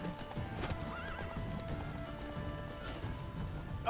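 In The Witcher 3, the horse gallops with quick, rhythmic hoofbeats and breaks into a shrill whinny near the end, over quiet game sound.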